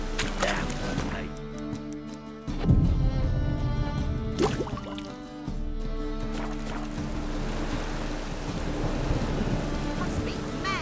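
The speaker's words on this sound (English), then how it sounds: "Must be mad running around in this rain." Steady rain and thunder during a thunderstorm in The Witcher 3: a continuous hiss with a sharp, loud rumbling thunder crack near the start, and music or ambient tones running underneath throughout.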